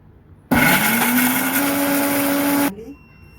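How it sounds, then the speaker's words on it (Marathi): A kitchen mixer grinder grinds green chili chutney with coriander, salt and water, starting abruptly, whirring loudly and steadily for about two seconds as its pitch rises slightly, then cutting off with a short rattle. "आता मी मिक्सरला लावते"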